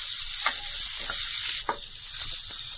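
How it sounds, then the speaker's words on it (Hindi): Carrots and peas cooking in a pan for rava upma give a steady, bright sizzle, with a few soft stirring scrapes at regular intervals, close up and with no talking. "हमें सारी सब्जियों को अच्छे से पका लेना है।"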